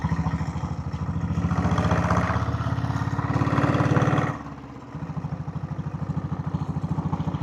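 A diesel Royal Enfield Bullet motorcycle climbs hill roads, its engine thumping steadily and loudly up close, the chugging dipping briefly in the middle before carrying on.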